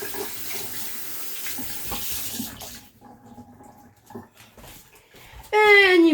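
Water running from a kitchen tap while a blender lid is washed, a steady rushing stream that fades partway, with a speaking voice and a dog whimpering briefly at the end.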